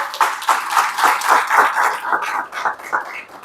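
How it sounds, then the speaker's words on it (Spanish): Applause from a church congregation during a sermon, a few seconds of moderate, uneven clapping that comes in rhythmic bursts and gradually thins out. "¿Cuántos le pueden dar un aplauso al Señor?"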